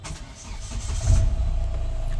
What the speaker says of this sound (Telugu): ఇంజన్ స్టార్ట్ చేస్తాను ఫస్ట్